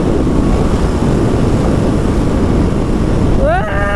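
A KTM Duke 200 races on the Sindhuli highway in a steady, loud roar of engine and wind rush close to the rider, with a brief rising tonal whine near the end.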